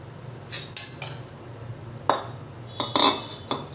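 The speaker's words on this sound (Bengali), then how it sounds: "সর্ষের তেলটা দিয়ে মশলাটাকে খুব ভালো করে মাখিয়ে নেব।" Mango pickle spices, red chilli powder among them, being mixed with mustard oil in a bowl: a spoon clinks and scrapes against the dish in quick irregular bursts, close and fairly loud, with no speech.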